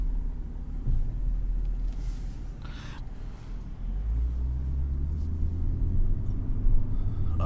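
A car with a modified throttle drives along, heard from inside as a low steady engine and road rumble that swells slightly toward the end, with brief rustles and no talk.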